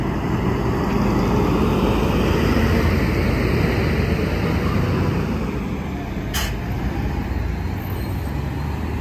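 A Gardenia intercity bus on the Pouso Alegre–São Lourenço route approaches along the BR-459 highway, its engine and tire roar building into a steady, loud rumble of roadway noise.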